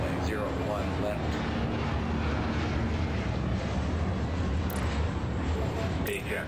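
Aircraft landing in the Airport Madness air traffic control game produce a steady broad jet rumble throughout, with a radio-style game voice talking over it.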